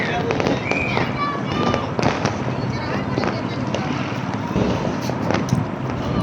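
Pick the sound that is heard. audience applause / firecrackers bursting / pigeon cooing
firecrackers bursting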